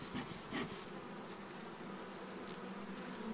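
Bees buzzing nearby at a top bar hive during a honey harvest, a faint continuous drone with a few louder passes as individual insects fly close.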